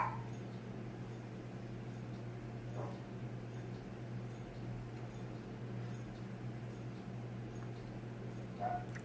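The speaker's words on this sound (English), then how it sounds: "that's one thing about having dogs. They don't know when to be quiet. They're always barking." Dogs give a few faint, distant barks and yips over a steady low hum in an indoor room, with long quiet gaps between the short outbursts.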